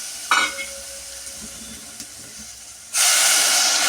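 Jaggery in a pan on the stove gives off a steady faint hiss that suddenly swells into a loud, bright sizzle near the end, with a couple of soft clinks early on and no voices.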